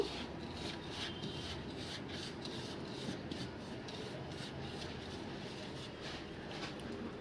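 Pakora batter made with water, salt and ground pepper is mixed by hand with a soft, rhythmic rubbing and squelching, quiet and close, with no talk.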